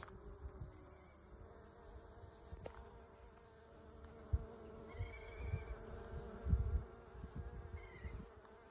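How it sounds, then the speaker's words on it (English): Bees buzz steadily close by among flowers on a farm in the open air, with faint birdsong and the low hum of insects drifting in and out. "There are so many little bees over here."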